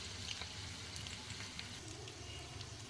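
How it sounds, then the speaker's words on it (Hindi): Half a spoon of cumin seeds sizzles in a spoonful of hot ghee for a tadka, with the gas just switched off; a steady, close frying hiss with faint crackles throughout. "तड़के में हमने 1 चम्मच भर के घी गरम किया, फिर आधा चम्मच जीरा"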